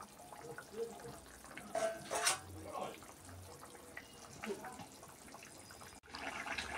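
Hilsa fish slides into a simmering curry in a pan, giving a few soft splashes and clinks against the utensil over a faint bubbling background.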